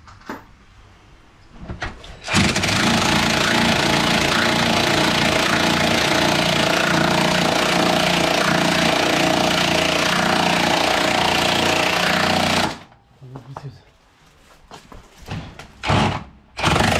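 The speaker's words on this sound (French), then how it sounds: "Je vais chercher la visseuse." A cordless power screwdriver runs in one long, steady, loud burst of about ten seconds while working on a Porsche 911 Turbo S during a turbocharger change, with brief clanks of handling before and after.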